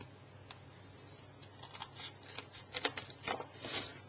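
Scissors trim excess paper off a small stamped card panel, a short run of quiet, close snips and crisp paper rustles that grows busier toward the end.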